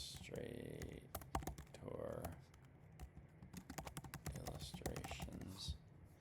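Quick bursts of keystrokes on a computer keyboard, close and crisp, with clicks that come in irregular clusters while a person speaks over them.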